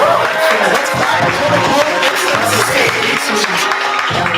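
Audience at an open mic night applauds a performer, a steady wash of clapping from a modest crowd, heard close and continuous with a voice speaking over it.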